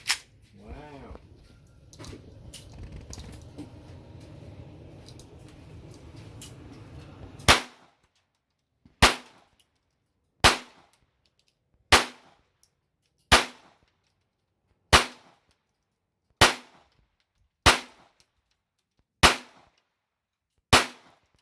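A Smith & Wesson M&P full-size .22LR pistol fired outdoors: after some low background noise, about ten sharp, loud single shots ring out at a steady, unhurried pace, each standing alone with a short decay.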